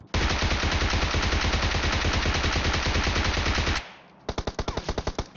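A PP-19 Bizon submachine gun in PUBG Mobile fires a long, loud, rapid automatic burst lasting several seconds, then after a brief pause a shorter burst of distinct, quickly repeated shots.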